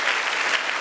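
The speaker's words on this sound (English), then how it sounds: "you may clap" A church congregation breaks into dense, sustained clapping, a steady roar of many hands filling the room without pause and with no talk over it.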